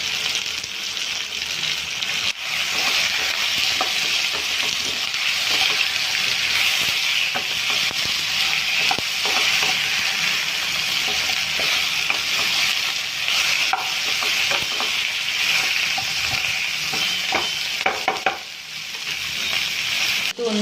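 Cut drumsticks and coriander fry for sambar with salt, chilli and turmeric, a loud continuous sizzle and hiss close up, with intermittent stirring scrapes running under it the whole time.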